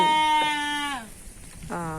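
Goats and sheep on a farm bleat loudly and close by, one long wavering call followed after a brief pause by another starting.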